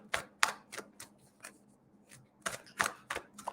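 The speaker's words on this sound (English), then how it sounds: "I'm just going to give these a really good shuffle for you" A tarot deck is shuffled by hand in a run of crisp, snappy bursts of riffling and tapping, near and fairly loud, with short pauses between them and no voice over it.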